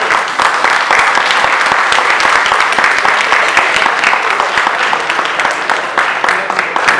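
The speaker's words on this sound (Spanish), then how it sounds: "Les pidamos con un fuerte aplauso" Dense, steady applause from a sizable crowd at a book presentation, sustained throughout at full strength.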